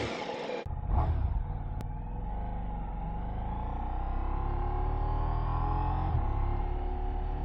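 A 2024 Ducati Diavel V4 motorcycle engine revs up close and loud, a sharp blip rising then settling into a steady, sustained roar that holds strong for several seconds with a brief surge near the end.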